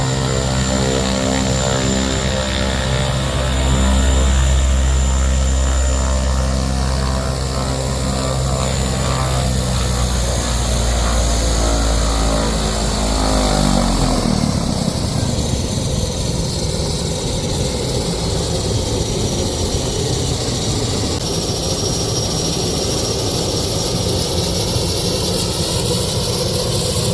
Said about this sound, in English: This turbine is awesome.